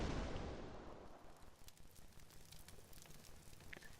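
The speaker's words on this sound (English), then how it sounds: "A massive roar thunders along with the light." An explosion in a visual novel game: a loud roaring blast at the start that rumbles and slowly fades into a long crackling, sizzling tail.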